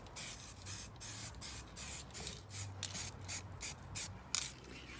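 Rapid bursts of spray hiss as a second coat goes onto a stainless steel exhaust, about a dozen short pulses in a steady rhythm, close and fairly quiet.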